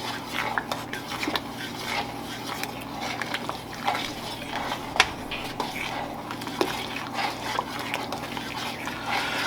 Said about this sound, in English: I'm going to stir this completely, and you'll notice that our jelly turns clear at that point.